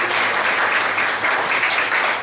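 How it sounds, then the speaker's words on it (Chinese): An audience at an evening talk on Taiwan's judiciary applauds to welcome prosecutor Cheng Tzu-wei, a dense and steady wash of clapping that stays loud and even throughout, with no other sounds standing out. "那我们一起掌声欢迎郑子威检察官"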